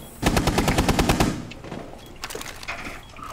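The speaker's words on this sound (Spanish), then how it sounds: "me están cagando a tiros de acá" A rapid burst of automatic gunfire in Rainbow Six Siege rattles loudly for about a second, followed by scattered distant shots and faint background noise.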